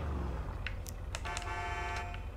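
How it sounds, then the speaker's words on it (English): Horn of an HVY Nightshark armored SUV in GTA 5 Online sounds in several short, strong honks followed by a longer held blast, close and loud over a low engine hum. "Pretty much standard horn, but it does sound strong."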